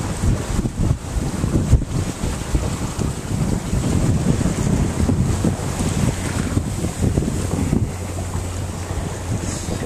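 A sailboat moves through open water near Pumpkin Key, with steady wind buffeting the microphone and waves washing against the hull throughout, a broad continuous rush with no talking.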